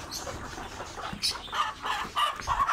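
Chickens and pigeons outdoors at night, with several short clucks and squawks in quick bursts, close by and moderately loud, and no voices.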